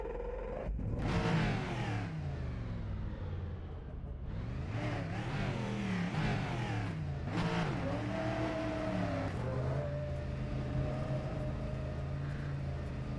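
A race car engine in a racing video game on the Daytona Road Course revs and climbs through repeated gear changes, loud and close, with sweeping pitch rises and drops and a steadier drone toward the end.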